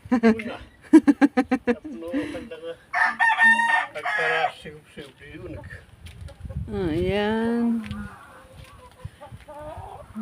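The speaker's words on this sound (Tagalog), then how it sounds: "Nakain ng mga kanin yung mga manok nila." Chickens at a morning feeding of rice cluck and squawk close by, with a rooster crowing partway through, while people talk over them.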